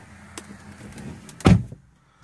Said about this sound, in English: I'll shut my door here.